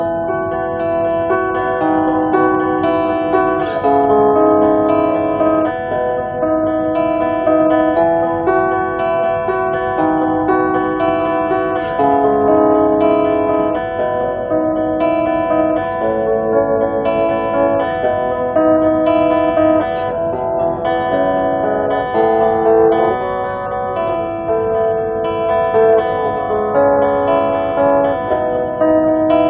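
Clean electric guitar through a VOX AC1 Rhythm amp, a steady stream of picked notes and chords with no effects, loud and alone.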